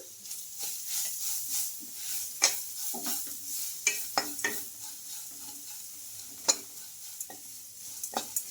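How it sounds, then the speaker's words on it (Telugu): Grated carrot and chopped curry leaves frying and being stirred in a pan while making rava idli, giving a soft steady sizzle with repeated close scraping and clinking stir strokes throughout. "మనకు ఈ క్యారెట్ తురుము అయితే కొంచెం ఫ్రై అవ్వాలి"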